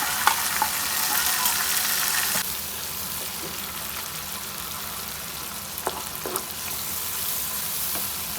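Tomatoes with crushed red chili and salt fry in a spice masala, giving a strong, close sizzle at first that settles into a softer steady frying hiss, with a few stirring knocks.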